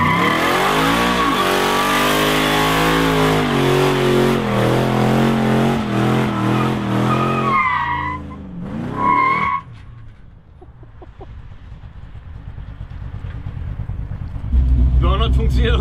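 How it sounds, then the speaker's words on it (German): A 1960 Ford NASCAR stock car doing a burnout, engine roaring and revving with tires squealing loudly for several seconds, then dropping to an idle before another burst; a voice talks over part of it. "Burnout funktioniert auf jeden Fall auch ohne Roll Control."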